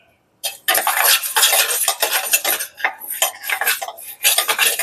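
Toor dal dry-roasts in a pan with dried red chilies and curry leaves, stirred hard with a metal spoon, giving loud, close rattling and scraping in uneven bursts after a brief silence.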